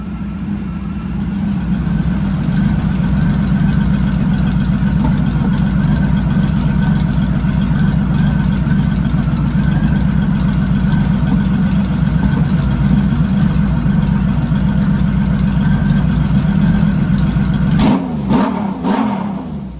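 A Honda Valkyrie motorcycle engine revived after ten years of sitting runs close by at a steady idle, a low continuous thrum with faint irregular popping from the left bank, ending in a few sharp knocks.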